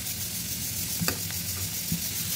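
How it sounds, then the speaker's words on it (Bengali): Shrimp, onion and garlic fry in hot oil, a steady close sizzle with a few light clicks and scrapes of stirring, no voices. "এটা ভালো করে একদম তেলে ভাজা ভাজা করে নিতে হবে।"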